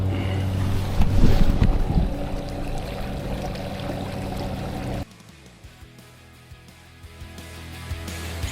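Bixpy K1 electric motor driving a NuCanoe U10 kayak at full power on open water, a steady whirring drone mixed with wind buffeting and water splash, louder at first then dropping to a quieter hum.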